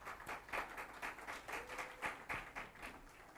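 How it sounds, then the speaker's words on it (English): An audience claps together in a steady stream of applause, moderately distant and soft, with individual claps pulsing through. "Let's clap to that, please."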